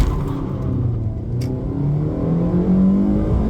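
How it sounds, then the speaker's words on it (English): An old Honda Brio engine revs hard to 7000 rpm, climbing steadily in pitch, a loud sustained roar building toward a high-rpm wail. "7000 rpm madness from a Honda motor as expected."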